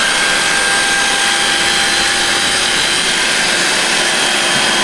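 A cordless vacuum cleaner with a motorized double roller brush runs in eco mode, making a loud, constant whirring hum with a steady motor drone, close by and unbroken throughout.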